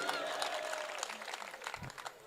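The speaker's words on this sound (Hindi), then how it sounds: "तालियां थोड़ी बजाइए।" An audience at a Hindi comic poetry gathering clapping, a brief burst of mixed hand claps with some crowd murmur underneath that tapers off near the end.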